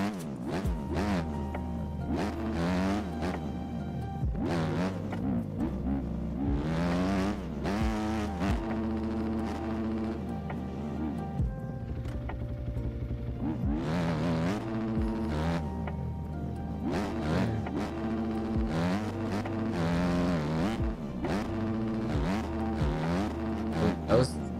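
A dirt bike engine in the video game MX Bikes on a supercross track roars with a steady whine and rises and falls in pitch as short throttle blips repeat, running continuously and close at hand.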